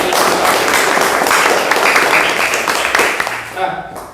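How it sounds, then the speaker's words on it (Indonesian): A high school class claps their hands together in a dense, continuous burst of applause that rings through the classroom and thins out toward the end, with voices mixed in underneath. "Kita tepuk tangan untuk memberikan semangat bareng-bareng."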